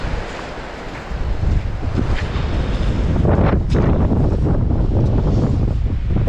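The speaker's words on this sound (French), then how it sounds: "La mer monte, la mer monte, la mer monte." Sea waves break on the shore as the tide rises, a continuous loud wash of surf building after the first second, with rushing wind buffeting the microphone throughout.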